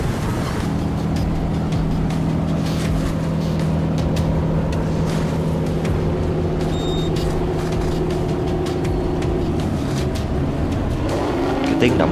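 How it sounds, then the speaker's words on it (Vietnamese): The engine of the Cat Lai ferry drones steadily and loudly throughout, a continuous low rumble with mechanical hum that holds its level without pause. "Tiếng động cơ đó là cái tiếng động cơ của chiếc phà Cát Lái nha các bạn"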